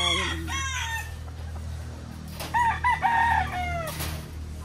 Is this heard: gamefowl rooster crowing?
yes